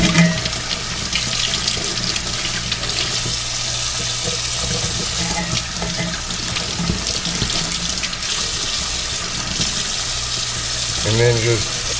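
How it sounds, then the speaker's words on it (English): Tap water runs continuously into a sink as a Dungeness crab is rinsed out, a steady splashing hiss with small clatters of handling, and a brief burst of louder splashing near the end. "And then clean out that crab butter. Just wash that right down the sink."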